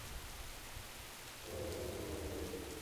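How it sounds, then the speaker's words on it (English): A storm spell effect in World of Warcraft: a steady rumble like rain and thunder that swells louder about halfway through, with a sustained roaring band joining the low rumbling, no voices. "Engulf Tide Mistress Nazesh in storm, inflicting nature damage for 1 sec."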